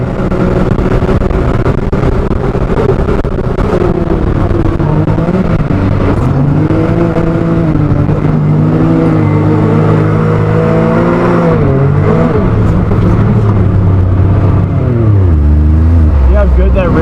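A RZR side-by-side charges through sand at full throttle, its engine roaring loud and close with rising and falling revs as it climbs toward a jump, with voices over the steady drone.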